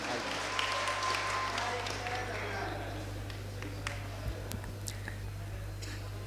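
An audience applauds to welcome a poet onto the stage at a Bundeli poetry gathering. Moderate, fairly distant clapping tapers off over a steady electrical hum, with some voices heard.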